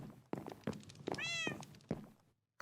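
A cat in the video game Minecraft gives a single clear, tonal meow in the middle, set among several dull thunks and knocks before and after it.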